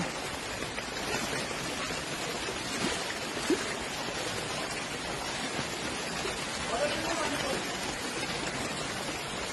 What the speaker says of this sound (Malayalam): അരുവി എന്ന് പറയാ, കുഞ്ഞി അരുവി.